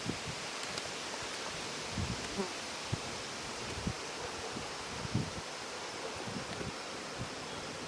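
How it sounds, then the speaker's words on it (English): Honeybees buzz around an open hive during an inspection of the brood chamber, a faint, even hum with soft rustling and occasional light knocks, no voices. "we might get some more frustrated bees"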